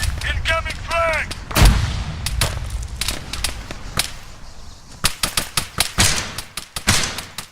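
Combat in the military game ARMA 3, with a grenade blast and heavy gunfire: loud cracking shots and booms in rapid irregular bursts, some close and sharp, with other sounds briefly overlapping early on.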